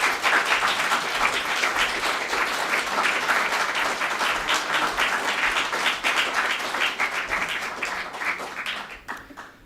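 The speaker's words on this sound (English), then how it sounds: "join me in giving our speakers and our trustees a round of applause" Sustained applause from an audience, many hands clapping steadily for several seconds before beginning to fade at the end.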